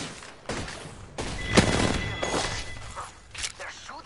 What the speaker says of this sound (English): They're shooting at me? I'm under fire.